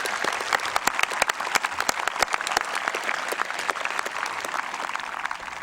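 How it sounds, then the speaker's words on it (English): A graduation audience at South St. Paul applauds scholarship donors and award-winning students in 2002, a dense, lively roll of clapping from a large crowd with sharp individual claps standing out, continuing steadily throughout. "Let's have a round of applause for all the scholarship donors and the students who won these awards."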